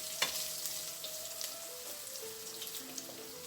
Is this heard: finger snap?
no